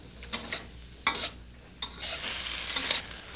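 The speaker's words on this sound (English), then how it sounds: "these pineapples and their little friends, green peppers, etc., are going to be sautéing in our wok" Fresh pineapple chunks and green peppers sautéing in a wok, a bright close sizzle that swells as the food is tossed, broken by sharp metal scrapes and clinks of stirring, with no voices.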